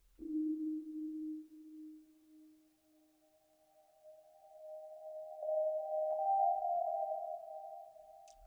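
A reversed vocal sample in an R&B production, processed with Lexicon reverb on a ballad vocals preset, comes through as smooth, swelling tones that slowly rise in pitch and fade in and out, alone without any talking.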